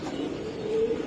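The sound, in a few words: pigeons cooing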